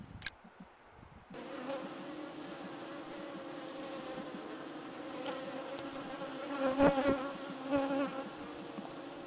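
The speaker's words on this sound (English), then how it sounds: "They are mostly placed on the entrance and some of them are flying, but not too much." A steady buzzing drone of many bees at a hive entrance close by, swelling briefly louder as a few fly right past.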